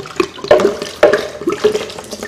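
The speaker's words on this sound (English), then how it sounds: "We're going to add some water to that." Water pours into a bowl of nut cheese in a kitchen, a close, steady splashing trickle with a few louder gushes over about two seconds.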